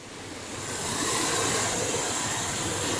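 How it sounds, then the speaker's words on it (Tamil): A loud, steady roar of rushing river water swells up within the first second and then holds as a constant broadband hiss nearby, at Navamalai in the Anamalai Tiger Reserve. "பிரவாகமா ஓடுதுங்க தண்ணி."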